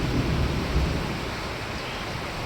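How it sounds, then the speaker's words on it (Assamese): A heavy rain and wind storm with thunder roars as a dense, unbroken wash of noise with a low rumbling weight underneath, loud and constant throughout, with no voices. "পূৰা বৰষুণ দিছে পূৰা তামান একদম বৰষুণ"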